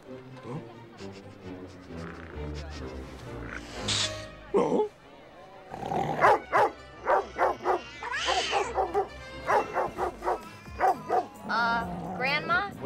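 A dog barks in a rapid series of yips and whimpers, loud and close, trading with and overlapping people talking in a comedic film scene.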